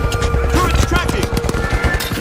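Rapid automatic turret fire in a video game, a loud, steady rattle of quick shots lasting a couple of seconds over a busy game soundscape.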